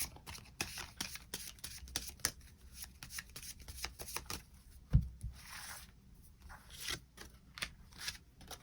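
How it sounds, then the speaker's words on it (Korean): Tarot cards shuffled for a reading, with rapid clustered riffles and soft slaps recurring close up in uneven bursts, one sharper knock midway, and no talk. "추가 카드 뽑아보도록 하겠습니다"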